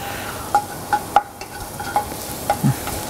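Food frying in a pan with spices, a low background sizzle broken by several sharp clicks and scrapes of a utensil stirring against the pan, moderately loud and close, without speech.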